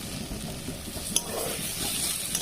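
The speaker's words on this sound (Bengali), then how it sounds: "এবার এটা আমি একটু নেড়ে চেড়ে নিয়ে নামিয়ে নেব।" Food frying in hot oil is stirred in a pan just before it is taken off the heat, a steady close sizzle with soft scraping strokes and a light metallic clink midway, no talking.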